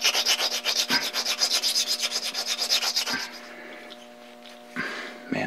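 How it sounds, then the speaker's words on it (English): A circular stone rubs rapidly back and forth over a metal Brown & Sharpe dividing head part to remove burrs, a close, rhythmic rasping that stops, then resumes briefly after a pause. "Just use a circular stone, try to remove any burrs."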